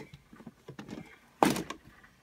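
A drawer holding makeup bags slides open, giving a quick soft rumble followed by a sharper thunk, close and brief, with faint handling sounds before it.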